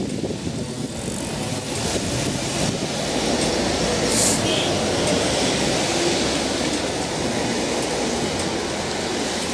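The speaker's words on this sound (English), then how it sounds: "Tram number 203, a Z-Class tram, arriving for a Melbourne Uni via Swan Street service, route number 67." Z-Class tram number 203 arriving at Flinders Street Station, Melbourne, on route 67: a steady loud rumble of wheels on rail with traffic and city din, a brief high squeal partway through.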